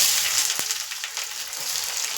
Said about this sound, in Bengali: এবার সব পেঁয়াজটা তুলে দেবো